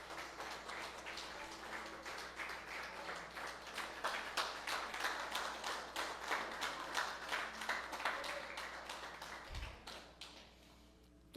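A church congregation on its feet claps together during a Pentecostal-style service, a fairly faint, sustained run of rhythmic applause lasting several seconds before fading out, with no one speaking.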